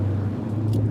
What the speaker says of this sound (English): here goes the loud car